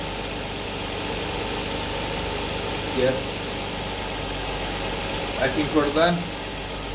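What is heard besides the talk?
Lexus IS200 engine idling at about 1500 RPM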